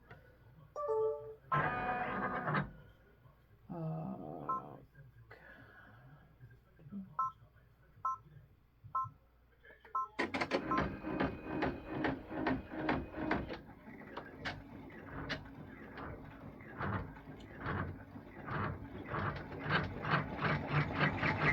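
An embroidery machine stitches felt down onto vinyl for a Christmas ornament, first with a few short bursts and beeps, then settling into a long, steady rapid mechanical stitching rhythm.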